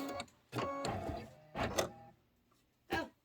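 An embroidery machine stitching a Kimberbell autumn design, mechanical whirring bursts in separate runs with brief pauses between, close and fairly loud, no talk.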